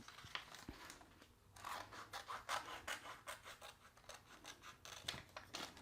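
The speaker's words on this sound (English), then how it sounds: "use my scissors. I'm going to go ahead and just cut those off" Repeated snipping of scissors cutting through paper, a rhythmic run of close, crisp cuts after a brief pause, with no talking.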